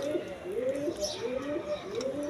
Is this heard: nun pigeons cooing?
yes